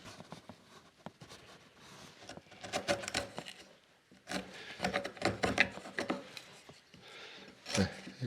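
A hand chisel pares wood in short scraping and shaving strokes, coming in close, irregular bursts with brief pauses between them.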